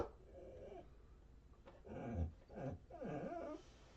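A pet dog growls and whimpers nearby in a quiet room, a few uneven rumbling and whining bursts over faint background noise, the sounds fairly soft.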